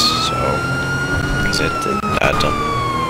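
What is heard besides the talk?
police car siren in video game GTA V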